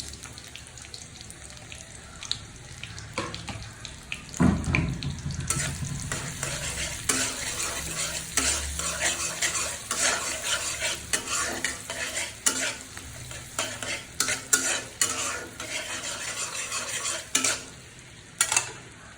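Chopped onion sizzles steadily in hot oil as a spoon stirs and scrapes around the pan, with a loud burst as it goes in, then continuous frying crackle punctuated by irregular clatters of the spoon.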